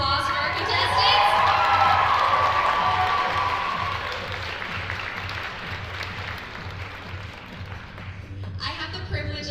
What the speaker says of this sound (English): Can we hear another round of applause for our contestants?